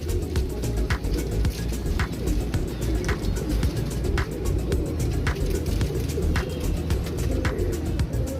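Antique pigeons of the Neel, Dumbay, Teddi and Golden Dub types coo in repeated soft bursts close by, with a low steady rumble of traffic underneath.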